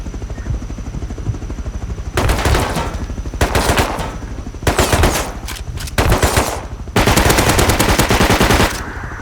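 Bursts of automatic gunfire in the survival video game Rust, loud rapid machine-gun volleys in several separate runs with short gaps between them.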